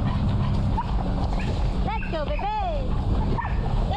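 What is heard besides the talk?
dogs barking and whimpering on off-leash run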